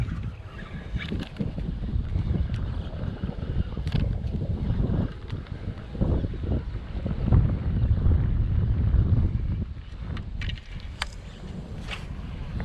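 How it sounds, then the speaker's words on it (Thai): Gusty wind buffets the microphone beside a golf course pond while fishing for giant snakehead, a steady low rumble with stronger gusts midway and a few faint clicks, no talking. "อุปสรรควันนี้เลยคือลมนะครับ"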